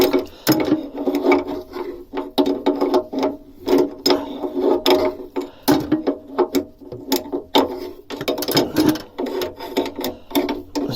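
A wrench loosens engine mount nuts on a narrowboat's Beta 38 engine, giving repeated close metallic ratcheting clicks in short bursts with brief pauses, fairly loud and alone.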